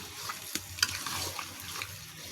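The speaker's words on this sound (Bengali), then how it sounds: "মাংসটা আর কচুটা একসাথে খুব ভালোভাবে কষিয়ে নেব।" Beef and taro root are sautéed together in a pan, giving a faint, steady sizzle broken by a few light scraping stirs, close but quiet.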